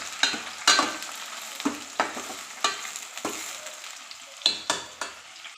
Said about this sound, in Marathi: त्याच्यात टाकून घेऊया टोमॅटो फ्राय करून घेऊया